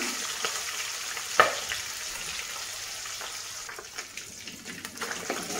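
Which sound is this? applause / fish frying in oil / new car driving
fish frying in oil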